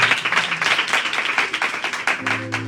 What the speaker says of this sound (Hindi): अरे ताली बजाओ।